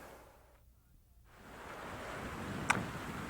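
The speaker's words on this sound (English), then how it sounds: "the tide is going out, so the water is flowing out of the pond and out into the ocean" Water flows out of a Hawaiian fish pond through its sluice gate into the ocean as the tide goes out, a broad outdoor rushing wash mixed with wind that swells and grows louder, with one sharp click near the end.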